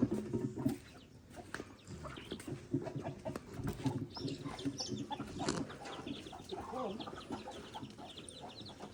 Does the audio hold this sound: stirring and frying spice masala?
no